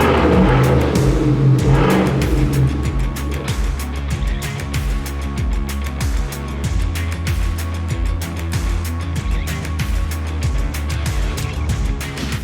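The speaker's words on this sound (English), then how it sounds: "Let's pull this truck in and get to work." Chevrolet Trail Boss pickup truck pulling in, its engine rumbling loudly and steadily close by while faint ticking and clicks sound underneath, with no voices.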